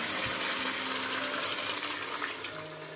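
Meat broth pours into a pot of Cameroonian yam stew in a continuous, splashing, gurgling stream that stays close and steady throughout.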